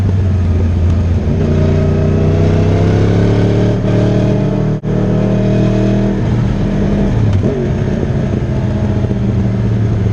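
Yamaha R1 sport motorcycle accelerating hard on a race track, a loud close engine howl rising in pitch through the gears, with a brief cut before revving on.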